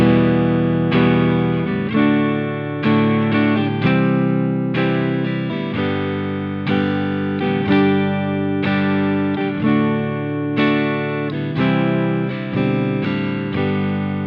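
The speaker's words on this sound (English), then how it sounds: "We can build energy using our 16th note framework and altering the strumming pattern." Distorted electric guitar strumming the chorus chords of a song in a fast, driving sixteenth-note rhythm, with chord changes every second or so, loud and continuous.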